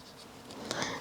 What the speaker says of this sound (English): I'm going to write shoulder here.